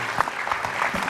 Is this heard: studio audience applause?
yes